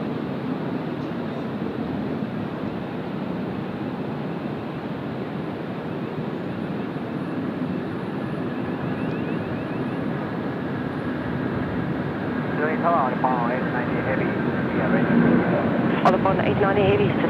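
A China Eastern Airbus A330 takes off at Sydney Airport with a broad, steady jet roar that builds toward the end, heard from a distance as a continuous, loud wash.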